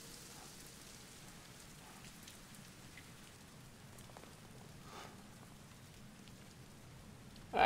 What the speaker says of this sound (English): the rain is kind of deadly.